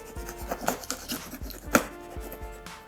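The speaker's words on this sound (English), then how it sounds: "So at the top, there's a sticker, so we'll just cut it up." A knife slicing through a sticker on the top of a cardboard laptop box, producing several close, short scraping and tearing strokes with faint papery crackles, quiet and uneven in rhythm.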